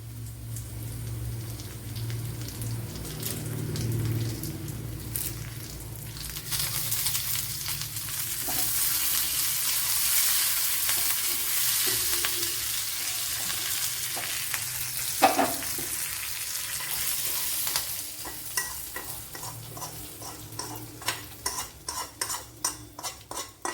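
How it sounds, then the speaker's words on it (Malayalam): Curry leaves hit hot oil in a pan with bitter gourd, Kerala style, and a loud, steady sizzle and crackle follows, with a spoon stirring and scraping the pan now and then. "ഇനി കറി ലീവ്സ് ഇട്ട് കൊടുക്കുക."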